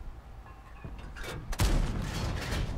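A tank cannon shot in World of Tanks from a Strv S1 tank destroyer, a sudden deep boom partway through after quieter game ambience, with a rumbling tail.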